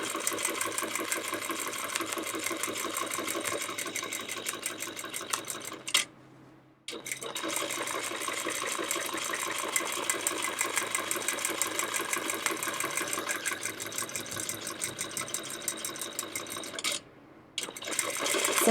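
A home sewing machine runs steadily through free motion quilting on a quilt border, a fast, even needle chatter that stops briefly twice before starting again. It sounds close and moderately loud, with no voices.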